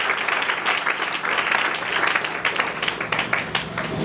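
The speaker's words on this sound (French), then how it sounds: "Acclamons très fort pour les Seigneurs." Congregation applauding loudly in a church service, a dense, sustained wash of clapping from many hands that carries on steadily throughout, with faint voices mixed in.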